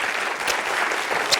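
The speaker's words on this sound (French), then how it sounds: "Et le public vous applaudit." A short burst of steady applause from the studio audience of a French TV quiz show, dense and uniform clapping with no break.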